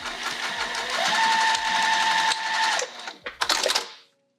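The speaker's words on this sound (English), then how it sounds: "now let's sew right over. Here we go to the machine." A sewing machine stitches a patchwork zipper case with a back stitch, whirring loudly and steadily for nearly three seconds before stopping, followed by a few sharp mechanical clunks and handling knocks nearby.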